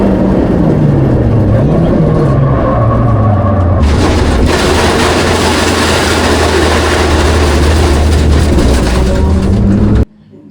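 A Time Attack race car at Donington runs hard off the track into the gravel trap. A loud, steady engine drone with shifting pitch fills the run, a dense crunching rumble takes over midway, and everything cuts off abruptly near the end.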